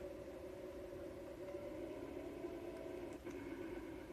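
Quiet, steady idle of a car engine in a farming video game, a low mid-pitched hum held evenly throughout with a brief dip near the end.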